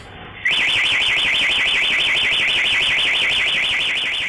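A loud electronic anti-theft alarm on an e-bike bursts on and wails continuously in a fast warbling siren tone, close and unbroken to the end, no talking.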